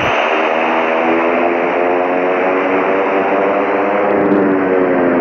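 A simulated airliner taxiing at Los Angeles in the Infinite Flight game, heard as a loud, steady engine whine and hum that holds level throughout with no speech over it.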